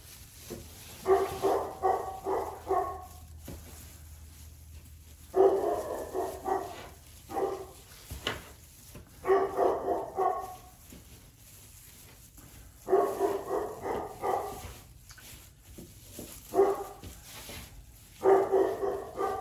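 A dog barks repeatedly indoors in five clusters of quick, sharp barks with brief gaps between, close and fairly loud, with no talk.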